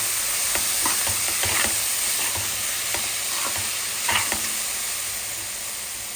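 Food being stirred in a frying pan, steady broadband sizzle with repeated scraping strokes of a spoon against the pan, close and fairly loud, no talking.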